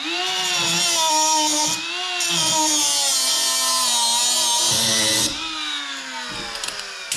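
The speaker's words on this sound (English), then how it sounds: "This is a pot metal thing. Grind that off." Grinder cutting off a pot metal part, a loud sustained high-pitched whine with a steady tonal drone that dips briefly twice as the tool bears into the metal, alone without talk.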